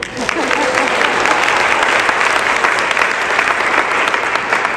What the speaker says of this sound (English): You can clap for it.